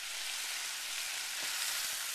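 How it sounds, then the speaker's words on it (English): Carnitas pork sizzling hot in a pan while frying crispy, a continuous fine crackling hiss, close and steady, with no voices. "This stuff is sizzling hot."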